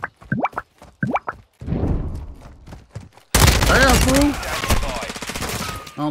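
Gunfire in COD MW2: after a couple of short voice sounds and a soft rumble, a loud, dense burst of rapid automatic fire erupts and rattles on until the end.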